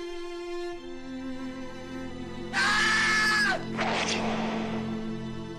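A woman lets out a sharp, piercing scream as a dramatization sound effect depicting the assassination of Empress Myeongseong, a loud sustained shriek of about a second followed by a second shorter cry over steady background music.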